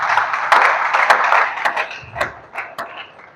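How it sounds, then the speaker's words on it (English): Audience applause fills the space with dense clapping that builds quickly and then thins into scattered claps, heard close and fairly loud, with no voice over it. "Can you give a round of applause for that?"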